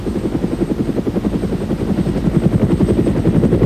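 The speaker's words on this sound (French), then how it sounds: "l'hélicoptère Medivac réussit le plus souvent à l'atteindre." A Medivac helicopter sounds close and loud, its rotor thumping in a fast, steady pulse over a low engine drone, with no voices.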